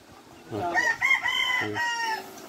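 A rooster crows up close, loud and clear, with one drawn-out, multi-note call and a short second phrase against a quiet background.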